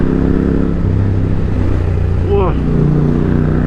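MT-09 motorcycle engine running with a steady, loud drone, a quick rising rev near the end, while a person exclaims over it.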